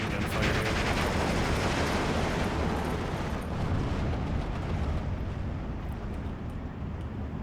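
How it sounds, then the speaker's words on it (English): Gunfire and explosions rumble continuously in the Steel Division 2 wartime battle, a dense, steady wall of low booming with no clear separate shots, loud throughout and without speech. "It's kind of cool to see the machine gun fire here."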